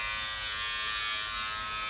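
Pro Design water-resistant hair clippers with a 1/8 inch guard cut hair, a close, continuous high electric buzz with no pause.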